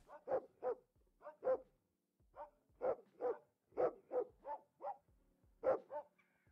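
Dogs bark in a video game about dealing drugs, a quick series of a dozen or so sharp woofs in uneven bursts, fairly close and clear, with no talking over them.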